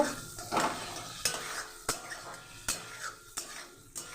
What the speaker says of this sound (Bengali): এবার আমি দিয়ে দেব ভেজে রাখা পটলটা এবার এটাকে একটু মশলার সঙ্গে নাড়িয়ে ছাড়িয়ে নেব